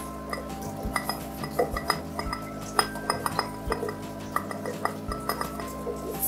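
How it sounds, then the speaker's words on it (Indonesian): Sinking and floating agaru fish feed pellets being poured and mixed in a container, producing a busy run of small clinks and rattling ticks, irregular and close, with no talking. "Dan sekarang kita coba tuangkan pakan agaru ini dimix ya, sinking maupun yang floating."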